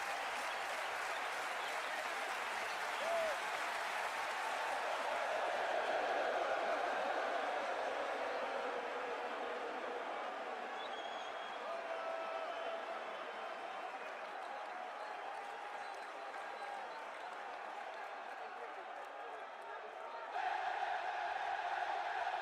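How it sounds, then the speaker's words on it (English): A cricket stadium crowd roars and cheers after a six in an India versus South Africa match, a sustained wash of applause and shouting that swells and ebbs, loud and distant-sounding, with a brief rise near the end. "The crowd's going wild."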